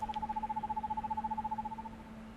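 An owl calling in the PS4 game Perception, a steady rapid trilling hoot held for about two seconds before fading, faint and alone.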